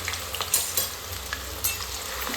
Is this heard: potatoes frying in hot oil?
yes